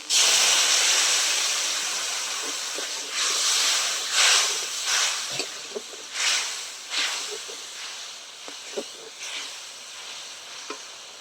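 Spice masala for a Bengali jackfruit and prawn curry sizzles hard in a pan right after water is added, a loud steady hiss that gradually eases, broken by repeated scraping and stirring bursts.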